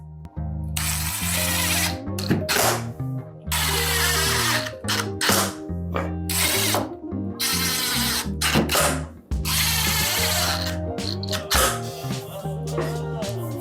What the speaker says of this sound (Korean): 이것도 6에 32 피스로 결합을 하겠습니다